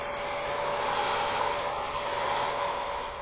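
A hair dryer blows steadily on a watercolor card base, a loud, constant whirring hum that runs unbroken from start to finish with a faint high whine on top.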